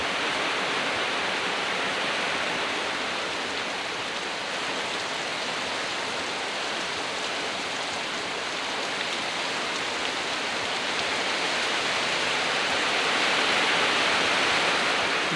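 Heavy rain pours steadily outdoors in a flooded village, a dense, continuous roar of water close by that swells slightly toward the end, with no talking.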